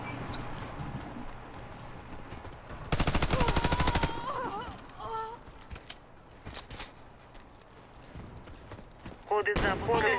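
Gunfire in a clan war first-person shooter game: a dense burst of rapid automatic shots for about a second, then scattered single cracks and short bursts, with players talking over the game sounds.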